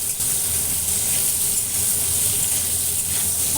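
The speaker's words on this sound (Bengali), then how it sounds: "আর লম্বা লম্বা করে বেগুন কেটে রেখেছি সেটাও দিয়ে দেবো। দিয়ে হালকা করে ভেজে নেব।" Long strips of eggplant with spices lightly frying in a pan, giving a steady, close, unbroken sizzling hiss that stays loud from start to finish, with no talking.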